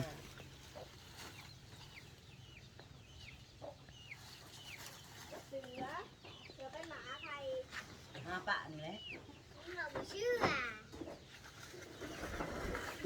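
Chickens cluck and call repeatedly at a moderate distance over a busy outdoor background with some faint voices mixed in.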